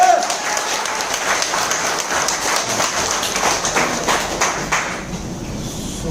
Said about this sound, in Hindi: जोरदार तालियां उर्मिल सोनी साहब के लिए।